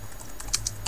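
Under a second of close computer keyboard typing, a few quick soft keystrokes over a low hum, with no talk.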